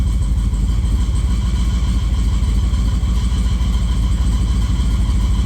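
Car engine idling with a fuel pump whining as it struggles to keep up, heard close as a loud, steady rumble with a constant tonal hum and no throttle change, no talking.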